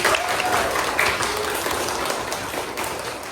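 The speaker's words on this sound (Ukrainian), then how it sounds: "Аплодуємо своїм друзям" Children and adults clap for friends at a school's last lesson, producing a brief burst of dense, even applause that stays loud throughout.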